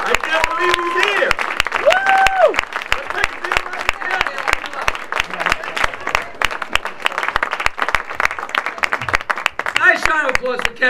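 An awards-show audience applauds loudly and steadily throughout, with cheers and whoops rising over the dense clapping and a voice speaking near the end.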